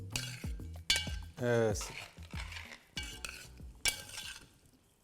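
Fried vegetables and fried onion being stirred into a gravy for Jodhpuri Kabuli Pulao, with close scraping and clinking of a spoon against the pot, a brief sizzle, and a few quiet spoken words.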